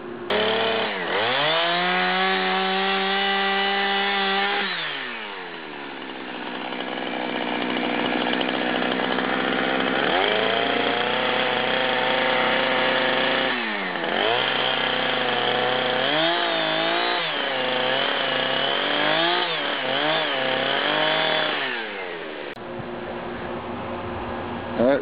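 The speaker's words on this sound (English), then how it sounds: "We'll just take the saw and we'll cut off these parts that are bad" A chainsaw cuts bad sections off rough wood being trimmed for a square end table, with a loud, close, sustained engine whine that revs up and down as the blade bites and eases, running almost unbroken.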